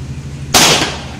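An upgraded Equar One air rifle fires a single sharp, loud crack that decays quickly. A low background hum runs under it.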